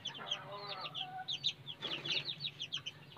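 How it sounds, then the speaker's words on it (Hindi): Lassani chicks in a coop in the evening give a dense, continuous chorus of high peeping and chirps, close by and moderately loud, with no talk. "कुछ चूजे ये इस खुडे के अंदर हैं जी, ये माशाल्लाह से सब के सब लसानी चूजे हैं जी।"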